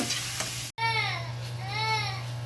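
Spice mixture for a cabbage, bean and prawn curry stir-frying in a pan over a medium gas flame: continuous close sizzle with stirring, a brief cutout, and a whining infant-like cry rising and falling in the background.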